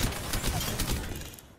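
Gunfire in the video game Apex Legends, a rapid burst of automatic shots with sharp repeated cracks over a noisy backdrop, tapering off at the end.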